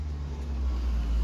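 A small truck rolling past outdoors, a low steady engine rumble that swells slightly as it nears, heard alone for a moment.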